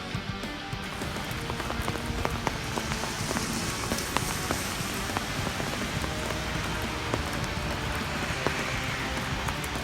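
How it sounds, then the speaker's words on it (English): Rain pours from a gutter into a homemade rain barrel through a mesh-covered lid. The patter is dense, steady and close, with scattered sharper drips throughout. "we got rain going in, we got debris being caught on top by our mesh"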